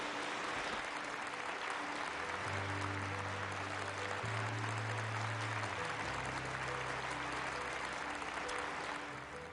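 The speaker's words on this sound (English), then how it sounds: "Please welcome our 4 keynote speakers with a big round of applause." Sustained audience applause welcoming keynote speakers at a conference on religious freedom, a dense continuous wash of clapping with low tones beneath, fairly faint and distant.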